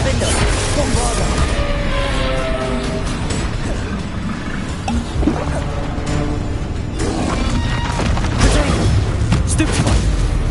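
Combat in Hogwarts Legacy, with fire and blasting spells going off in a steady stream of booms, crashes and impacts over a busy, continuous game soundscape for about ten seconds.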